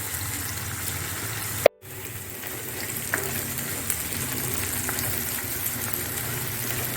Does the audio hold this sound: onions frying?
yes